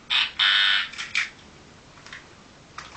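A few short electronic game show buzzer sounds, two longer harsh tones then quick fainter blips, sounding close, in an otherwise quiet room.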